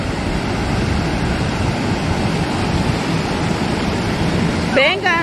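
Sea waves break on the shore in a steady, loud, broadband roar that fills the whole stretch, and a brief voice cuts in near the end.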